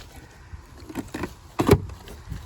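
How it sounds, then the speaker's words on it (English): Manual side mirrors on a pickup truck hitched to a fifth-wheel trailer, swung out to the extended position: a few short clunks and scrapes, with one louder snap near the end, close by and with no talking. "I'm gonna pull my mirrors out to the extended position on the truck."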